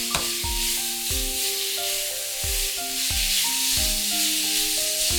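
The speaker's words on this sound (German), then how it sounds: "Das Fleisch ohne Öl in die heiße Pfanne geben." Pork belly sizzles and is stirred in a hot pan with no oil and a star anise pod, a steady, fairly loud hiss running beneath a rhythmic plucked melody with a regular low beat.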